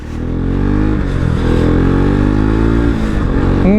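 A KTM RC200 motorcycle engine revs hard while riding, with a loud, continuous, close growl that rises and holds steady, dipping briefly near the end as the throttle shifts.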